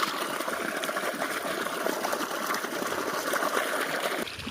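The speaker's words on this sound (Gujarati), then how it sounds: "મોટર ચાલુ કરી દીધી. પાણી આવવા માંડ્યું." A water pump motor runs at a farm as water gushes out in a steady, loud, close rush with an even motor hum beneath, dropping off slightly at the very end.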